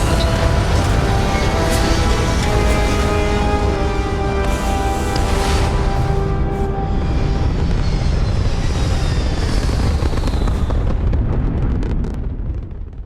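Thunderous spaceship liftoff in the video game Starfield, a loud continuous roar with deep rumble and rising whine that swells and holds steady before slowly easing at the end.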